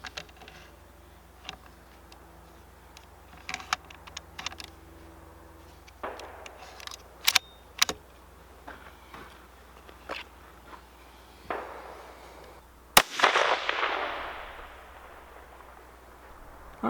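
A single loud rifle shot fired at a target, a sharp crack followed by a brief decaying rumble, standing out clearly after quiet handling clicks and small movements.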